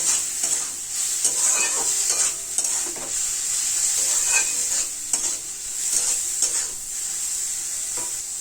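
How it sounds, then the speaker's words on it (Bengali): Red amaranth greens being stirred with fried egg in a pan, giving a continuous soft sizzle with repeated scraping strokes of the spatula, close and steady throughout. "ডিম ভাজাটা দিয়ে ভালো করে একটু নাড়তে হবে।"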